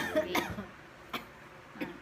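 Three short, sharp coughs spaced evenly apart, each a brief burst against a quiet background.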